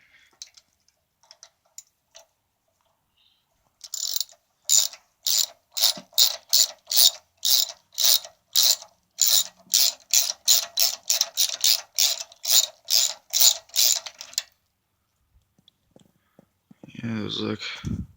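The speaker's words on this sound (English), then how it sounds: "And we're back with the correct ratchet." Ratchet wrench on a Lt4000 mower being rebuilt for off-road use, a rapid series of about two dozen sharp close clicks in quick bursts, with quiet moments before and a short noise at the end.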